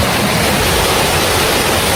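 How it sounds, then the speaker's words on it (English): The Cachoeira de Andorinhas waterfall in Brazil, a continuous loud, broadband roar of falling water heard up close with no break and no voices. "This is the Cachoeira de Andorinhas, so the waterfall of the swallows."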